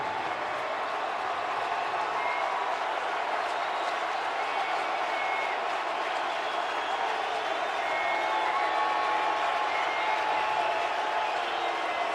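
A large stadium crowd at the Super Bowl roars steadily behind the 49ers defense, a dense sustained wall of cheering with whistles rising near the end, while an announcer talks over it.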